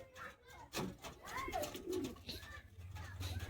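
A high-flying Andhra pigeon coos softly in a short, faint burst at a loft in Bagnan, Howrah, against quiet background noise.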